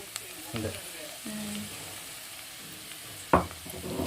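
Raw ginger frying in a pan is stirred, giving a soft steady sizzle with scattered scraping clatters and one sharper knock near the end, and no talking.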